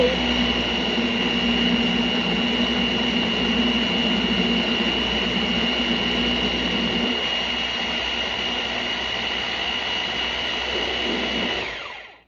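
A blender motor whirring while blending sofrito, a loud, steady droning hum with a constant pitch that runs for about twelve seconds, shifts slightly partway through, then winds down and stops.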